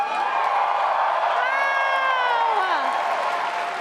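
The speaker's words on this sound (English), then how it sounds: "Just the roar of the crowd and the love when you came out" A large live crowd roars and cheers continuously, with whoops and shouts rising over a dense wall of voices, loud and sustained throughout.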